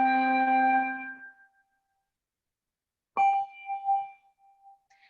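Malmark handbells pitched C4 and G5 ring together, a single bright struck chord that decays over about a second and a half, followed by silence and then another lighter bell strike that rings on quietly.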